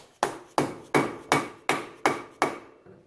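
A dead blow hammer strikes a part of a 2007 Yamaha Rhino 450 onto its splines, seven sharp, evenly spaced knocks, loud and close, each followed by a short decay.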